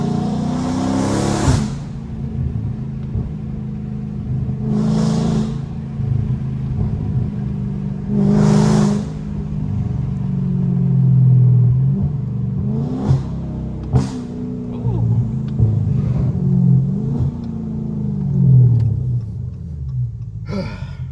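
A straight-piped 2022 widebody Charger engine booms loudly from close range, with a low rumbling idle broken by several sharp revving blips and throttle bursts over about twenty seconds, without talking.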